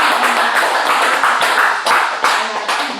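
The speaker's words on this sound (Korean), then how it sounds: "박수 한번." An audience claps together at a Korean Buddhist lay precept-taking ceremony, a steady run of hand claps with rhythmic pulses lasting several seconds in a reverberant hall.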